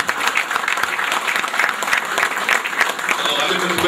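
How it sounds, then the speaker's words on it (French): An audience applauds a veteran cycling legend, Tour de France rider of 1949 to 1953, at a public event. The clapping is lively and continuous, close and full, and a voice speaks over it. "Vous pouvez applaudir à Ahmed Koubaïdi"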